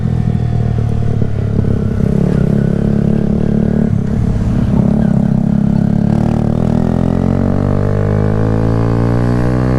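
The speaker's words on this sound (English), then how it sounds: "I have no problem riding my motorcycle." Kawasaki Z125 stunt-build motorcycle engine while riding, a loud steady drone with harmonic whine that dips and climbs as the throttle changes, close and continuous with no talk.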